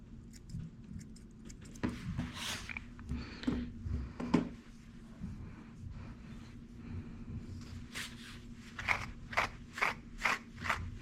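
Scissors trimming hair, opening with scattered soft snips and rustling and ending in a rapid run of crisp, close cuts over a low steady hum; no one speaks.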